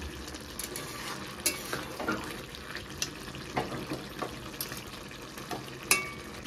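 Fish and potato curry simmering uncovered in a pan as the water cooks off, a quiet bubbling sizzle broken by sharp utensil clicks and scrapes against the pan at irregular intervals.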